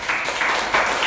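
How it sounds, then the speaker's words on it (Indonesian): A classroom of high-school students claps briefly in a few rhythmic bursts, a short, close round of group applause with no talking. "Oke, tepuk tangan dulu."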